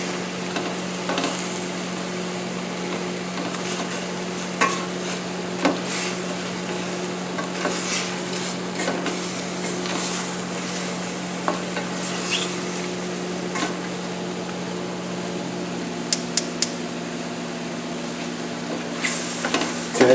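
Button mushrooms and onions sizzle in a pan over a high flame, a steady frying hiss with occasional sharp scrapes and stirs of a utensil and a constant low hum beneath.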